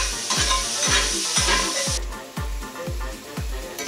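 Free-range wild pork fries in bacon grease in a pan, a steady close sizzle broken by a regular beat of soft thumps and scrapes as the meat is stirred.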